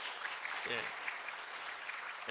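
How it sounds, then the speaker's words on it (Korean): A church congregation applauds to welcome a newcomer at a Sunday service, a dense, steady patter of many hands filling the room, with a voice briefly audible beneath the clapping. "우리 박수로 환영해 주시길 바랍니다"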